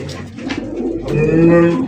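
Racing pigeons coo close by, a few soft throaty calls in the first second, then a longer sustained cooing phrase that swells louder toward the end.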